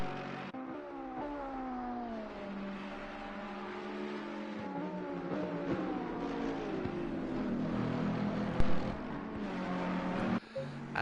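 Several racing cars, among them a Ferrari, roar past at Mount Panorama in a sim racing game, engines droning and shifting pitch as they run side by side, steady and fairly loud throughout with a couple of sharper bumps near the end.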